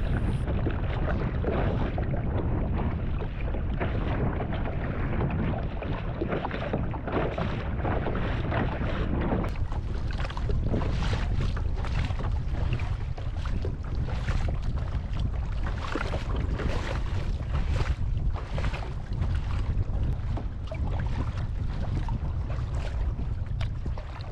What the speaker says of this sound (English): As long as we were paddling into the wind, we figured the return trip wouldn't be as bad